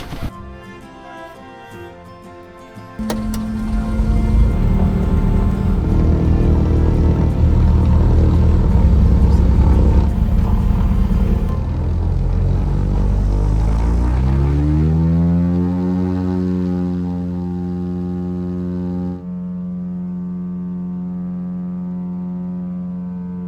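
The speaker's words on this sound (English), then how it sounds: "Taking off out of Oban Airport, we begin our 30-minute flight over to the Isle of Coll in the Inner Hebrides." A small propeller plane takes off from Oban Airport in Scotland: a low idle gives way to a loud, swelling engine roar and a steady droning hum with shifting tones that eases off near the end.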